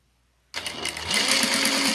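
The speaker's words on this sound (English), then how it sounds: "we're going to tack them on using a 1/4 of an inch seam" Sewing machine tacking bag handles onto a pouch with a quarter-inch seam, starting abruptly after a brief silence and running as a steady close whir with fast needle rattle.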